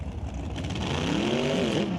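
A front-engine dragster at a Super Pro drag race revs up, its engine pitch climbing and swelling louder over about two seconds.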